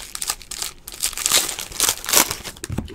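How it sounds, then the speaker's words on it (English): Foil wrappers of basketball card packs crinkle and tear in close, busy bursts, loud rustling rising and falling throughout with no talking. "I'm going to be opening up cards for a while."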